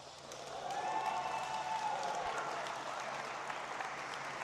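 A crowd cheers and applauds loudly and steadily for a fighter at a superfight event, a broad roar of many voices and clapping that swells and holds throughout.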